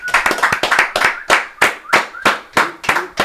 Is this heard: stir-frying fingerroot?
no